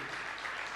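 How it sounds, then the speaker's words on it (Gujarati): Brief, faint burst of audience applause in a hall during a 2008 Gujarati dayro folk gathering, a steady wash of clapping with no speech. "તાળીઓથી આપણે વધાવીએ"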